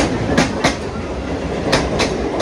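The Shantiniketan Express, heard from inside a 2S coach, runs at close to 100 km/h, with steady wheel rumble and sharp, rhythmic clickety-clack beats from the rail joints, close and loud with no talk.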